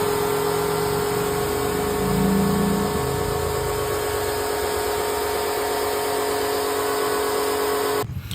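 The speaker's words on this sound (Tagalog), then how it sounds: "Tignan nyo naman kung gaano kalakas ang pressure ng ating Bendo Car Wash, oh." A coin-operated vendo car wash pressure washer runs continuously with a steady, loud motor whine and hiss, unbroken until it cuts off abruptly at the end.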